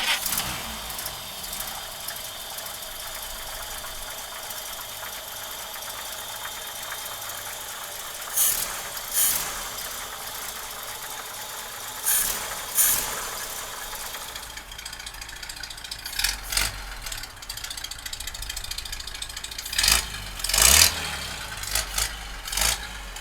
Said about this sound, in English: let's hear that old Stovebolt run